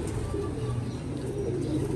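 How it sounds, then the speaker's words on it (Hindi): Low, rolling coos from nearby pigeons repeat steadily and overlap throughout, with a faint airy background and no talk. "क्या बात है अंटीक कबूतर है"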